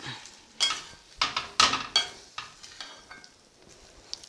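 Curry leaves and coriander hit hot oil in a tempering for mango rice, bursting into loud sizzling crackles with spoon stirring and pan scrapes, close up and fading into steady frying.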